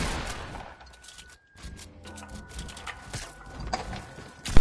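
Scattered gunshot bursts in a multiplayer video game firefight, irregular sharp cracks of varying loudness with brief pauses between them and a louder shot at the very end.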